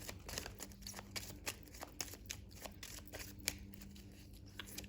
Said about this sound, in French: On va utiliser également les cartes chakras pour voir un petit peu.